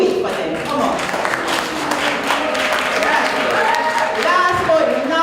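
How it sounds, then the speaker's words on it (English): Audience at a school debate competition applauding the debate team, dense continuous clapping from a large crowd, loud and sustained across the whole span with crowd murmur mixed in. "You all did very well, and you all deserve applause."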